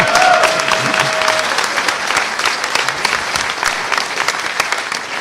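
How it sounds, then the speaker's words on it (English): A crowd at a hacker conference's social engineering talk applauds loudly and continuously, producing a thick, rapid patter of many hands. A brief tone sounds at the start, and the clapping holds steady throughout. "I can fail and still get applause."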